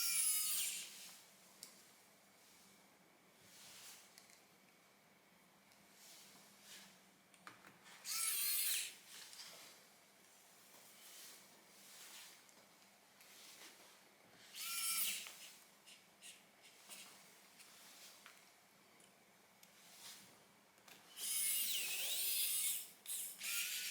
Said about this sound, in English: Then we'll go ahead and screw down the board.